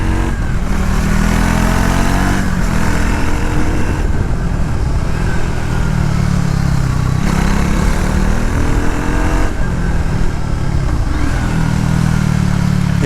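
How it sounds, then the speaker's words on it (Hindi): A Triumph Tracker 400 motorcycle runs loud and close with a continuous exhaust drone that rises and falls through several gear changes while riding, no talking. "एग्जॉस्ट नोट काफ़ी अच्छा है जो आप निरंतर लगातार आप एंजॉय कर सकते हो"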